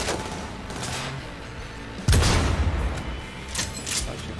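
Gun fired in the video game Cyberpunk 2077: a sudden loud, booming blast with a heavy low thump, followed by rumbling echo and a couple of lighter cracks trailing after.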